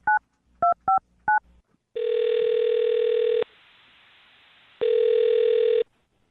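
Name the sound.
telephone dialing a phone number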